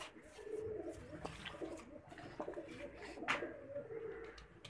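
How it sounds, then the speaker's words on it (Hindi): A pigeon coos steadily and close by, its low, rolling calls repeating under faint background noise. "2020 मोहर वाला कबूतर फेसबुक वाले स्टाइल में दिखा रहे हैं।"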